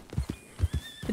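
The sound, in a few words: horse neighing in video game Red Dead Redemption 2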